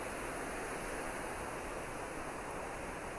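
Reekie Linn waterfall on a river, heard from a nearby path just above the drop: a steady, loud broadband roar of falling water that fills the scene without pause.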